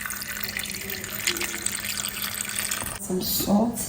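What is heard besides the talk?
water being added to garden eggs for cooking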